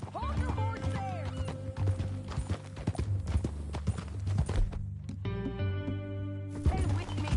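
Rhythmic horse hooves clip-clopping in Red Dead Redemption 2, steady and fairly close, with music and occasional voices layered underneath.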